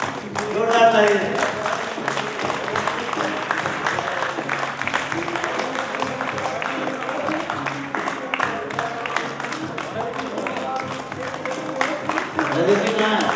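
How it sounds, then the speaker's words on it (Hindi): Steady, dense applause from the audience at a Republic Day celebration held by Nepal Telecom, lasting throughout with voices talking over it. "जोरदार तालियां।"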